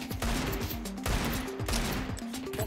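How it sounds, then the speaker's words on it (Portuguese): Gunfire in the video game CS:GO crackles in repeated bursts of rapid shots, with dense volleys recurring about every half second at moderate loudness. "Tem 3 tiros aí no céu."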